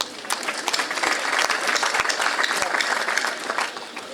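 Graduates at a graduation ceremony at Saint Louis Marie Grignon school in Malika applaud in a dense, steady burst of clapping from a large crowd, with a few voices mixed in.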